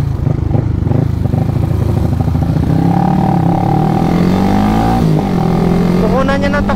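Loud motorcycle engine close by at a drag race, modified carbureted Sniper or Raider, idling roughly, then revving with rising and falling pitch and a final quick throttle blip, with voices talking over it.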